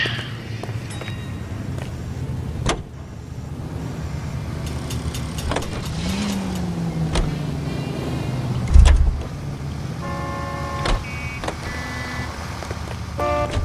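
A Studebaker Commander driving in L.A. Noire, a steady engine drone with a shifting pitch, a few sharp knocks and a brief horn-like toot, loud and close throughout.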